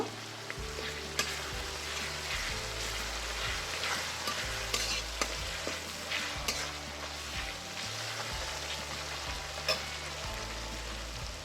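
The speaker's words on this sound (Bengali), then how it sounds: "সব কিছু দিয়ে একসাথে আমি কষিয়ে নেব" Spices and ingredients for a Bengali chana dal and egg curry sizzle steadily in a pan, stirred throughout with soft scraping, a continuous close frying hiss filling the whole stretch without talk.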